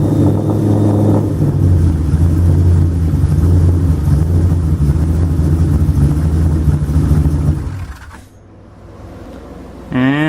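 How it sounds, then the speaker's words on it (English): A Corvette engine with belt and idler pulley trouble idles with a loud, steady, close rumble, then cuts out abruptly, leaving a short lull before a brief rising whine. "I'll start it and just idle it first, and then I'll rev it up if it stays"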